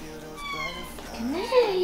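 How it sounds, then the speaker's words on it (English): A cat meows loudly up close in a home on Christmas Eve, a rising-then-falling drawn-out call near the end, with people talking softly underneath. "I don't even know how this cat gets outside, but she does."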